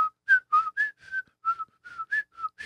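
Someone whistles a short choppy melody of brief separate notes, close up and clear, with small breaks between each note.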